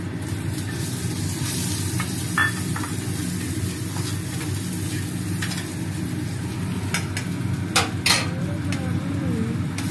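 Chopped garlic sizzling and frying in hot salted oil for momo filling, a steady crackling hiss close by, with occasional scrapes and stirring clatter.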